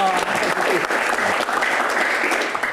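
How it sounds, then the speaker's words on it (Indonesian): Audience applause at a panel discussion on the Constitutional Court, a busy burst of many hands clapping, close and fairly loud, with a voice briefly heard at the start. "Tepuk tangan"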